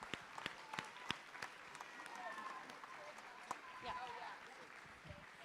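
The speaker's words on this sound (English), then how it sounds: "So give them a round of applause." A school assembly audience gives a round of applause, scattered sharp claps at first, then a looser spread of clapping with voices talking through it.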